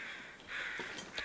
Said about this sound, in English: the crows that you can hear and actually see up there